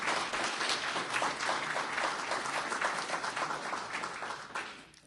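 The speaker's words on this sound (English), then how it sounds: "There's your applause, honey." Audience at a 2011 atheist convention clapping, a moderate burst of applause from a room full of people that holds steady, then fades out over the last second.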